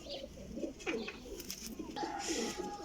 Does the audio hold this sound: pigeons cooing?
yes